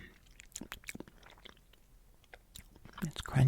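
Crunchy chewing of chocolate fairy bread, close and soft, with a series of irregular crisp bites and crunches and a louder burst near the end.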